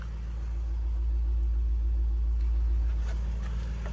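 A Range Rover SVR with a 5.0 engine, water having been down one cylinder, idles close by with a steady low rumble and a faint hum, continuous and alone for the whole stretch.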